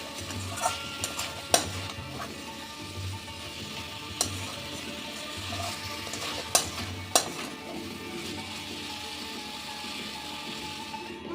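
Spices sautéing in a pan for a vegetarian dish give a continuous close sizzle, broken by irregular scraping stirs and sharp spatula clacks against the pan throughout, with no voices.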